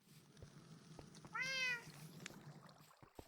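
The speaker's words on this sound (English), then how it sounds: "Maybe I could tame the cat." A cat in the video game Minecraft gives one clear, fairly quiet meow midway through, over faint background ambience with a few small clicks.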